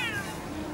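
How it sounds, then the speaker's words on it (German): A cat gives a single short, close meow with a falling pitch in a quiet hallway of a holiday resort. "Kitty? Ja, rufe mal miau"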